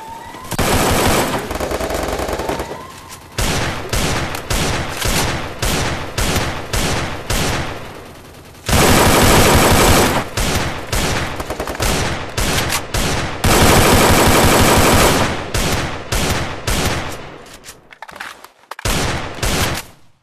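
Loud, rapid bursts of automatic gunfire from the mobile shooting game Free Fire, firing in repeated volleys with brief pauses between them.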